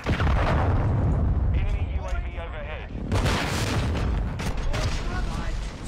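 Heavy in-game cruise missile strike in Call of Duty: loud, rumbling booms and blasts fill the scene nearly nonstop, with a voice speaking over the barrage midway.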